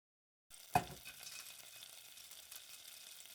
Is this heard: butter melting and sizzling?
yes